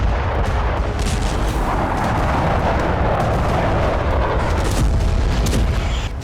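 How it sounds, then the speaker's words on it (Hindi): A huge explosion at a Scud missile depot rumbles on as a loud, continuous, distant roar with rolling booms, with no voices over it. "स्कड मिसाइलों के भंडार की वजह से ही इतना बड़ा धमाका हुआ"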